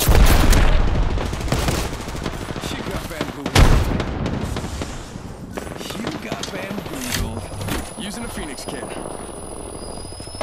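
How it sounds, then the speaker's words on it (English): A grenade blast and heavy gunfire in the battle-royale shooter Apex Legends, with a loud boom early, then dense, rapid rifle bursts and chaotic combat noise continuing throughout, close and loud. "Look out, grenade!"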